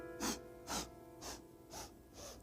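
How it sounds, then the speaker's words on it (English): Five quick sniffing breaths taken in through the nose during a yoga breathing exercise, evenly spaced and soft, with no talking. "do a little sniffing breath up"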